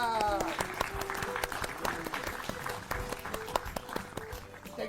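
A studio audience on an educational TV programme bursts into loud applause after a correct quiz answer, with sharp individual claps standing out over a sustained wash and music or tones underneath.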